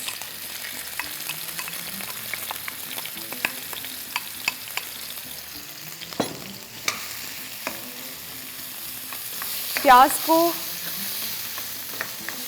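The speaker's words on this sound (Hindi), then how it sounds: "प्याज को भूनते हैं जब तक" Onions fry in hot oil in a handi for chicken makhni, a steady close sizzle running throughout with a brief burst of clatter from stirring near the end.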